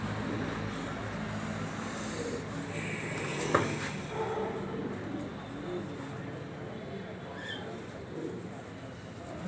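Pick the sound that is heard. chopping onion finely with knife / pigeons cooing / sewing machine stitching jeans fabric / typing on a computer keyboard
pigeons cooing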